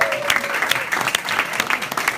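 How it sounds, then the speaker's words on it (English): Audience clapping at a community meeting, a brief burst of dense applause from a crowd of attendees, steady and fairly close for a couple of seconds. "Big round of applause for them."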